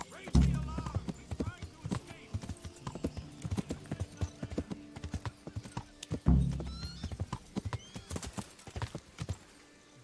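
Horse hooves clip-clopping at a gallop in the medieval video game Kingdom Come: Deliverance, with rapid rhythmic hoofbeats, a whinny, and someone talking over the ride.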